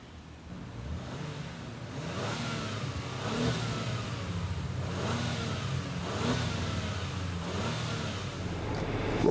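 A 2023 Acura MDX Type S under way, its engine droning at moderate level and rising through several acceleration surges with road noise inside the cabin.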